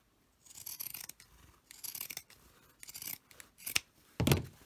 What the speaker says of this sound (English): I'm going to snip this little piece off here.